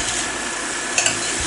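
Potatoes toss in a pan with butter and leftover roasting juices from beef goulash, giving a loud, close, continuous sizzle with a couple of soft utensil clicks near the end.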